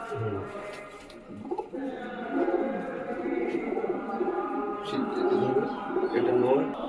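Andhra pigeons cooing in a pigeon loft, with soft repeated low coos running through the whole stretch, partly under nearby talk and background chatter.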